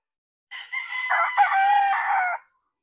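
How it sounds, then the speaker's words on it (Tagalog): A pure white Kelso broodcock rooster gives one loud, close crow, a drawn-out call lasting about two seconds with no other sound around it. "Ito yung pure white kelso ko na broodcock."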